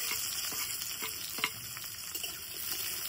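Chopped onion sizzles in hot mustard oil in a kadai over a wood fire on a rainy day, a continuous close crackle with occasional stirring clicks and no talk.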